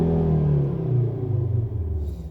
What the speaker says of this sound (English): Dad's going to give it one last rev